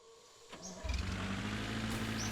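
A car engine in the video game The Long Drive cranks and catches, then settles into a steady low idle rumble that continues loudly to the end, with a faint whistling tone above.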